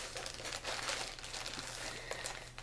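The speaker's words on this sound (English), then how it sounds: "I'm getting my scissors out so I can open this envelope." Paper envelope being handled and opened with scissors, a quiet crinkling and rustling of paper under a low steady hum, no talk.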